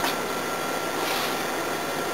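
A vacuum pump runs steadily, evacuating air from a bottle, giving a continuous broadband hiss-like hum at moderate level with no voices over it.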